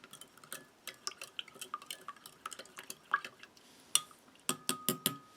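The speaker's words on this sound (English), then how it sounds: "we'll give this a stir" Spoon stirring a Slovenian MRE lunch ration in its pouch or cup, a quiet series of irregular clinks and scrapes, close and sparse, with sharper taps near the end.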